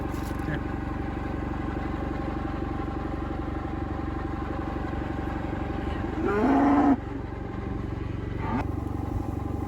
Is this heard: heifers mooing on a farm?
yes